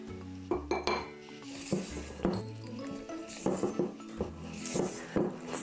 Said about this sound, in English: just using a spatula, you just want to scrape down the sides of the bowl